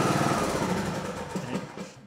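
A John Deere 100 series riding lawn mower engine running with a dense, rough roar close by that gradually eases and fades over two seconds, with no speech.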